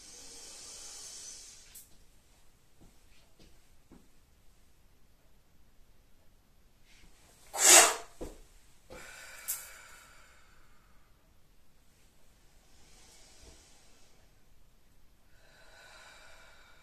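Slow, deliberate breathing during a sophrology relaxation exercise, mostly faint and soft, with one strong close inhalation through the nose standing out in the middle and quieter breaths around it in a hushed room.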